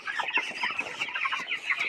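23-day-old farm chickens with a mild cough cluck steadily in a dense, overlapping chorus of short calls, close by, with no voices heard.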